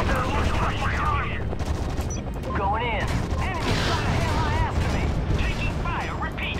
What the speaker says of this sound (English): Taking fire. Repeat. Taking fire.